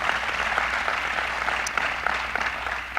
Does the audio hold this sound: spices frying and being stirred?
no